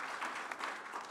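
An audience claps steadily, a dense patter of many hands applauding together at an even, moderate level.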